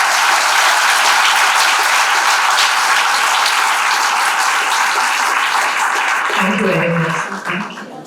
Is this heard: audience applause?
yes